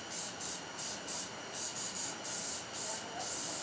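Birchwood Casey Barricade is sprayed heavily onto a gun barrel in a series of short, faint hissing bursts separated by brief pauses, with no talk.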